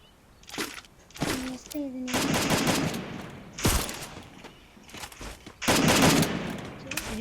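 Gunfire in the mobile battle-royale game Free Fire: loud, broadband bursts of shots come in several clusters with short gaps, and a voice is briefly heard between them.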